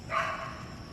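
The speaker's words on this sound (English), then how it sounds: "Whose dog is that?" A single brief dog bark, somewhat distant and moderately loud, over faint room noise.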